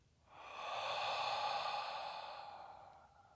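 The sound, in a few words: breathing out during breathwork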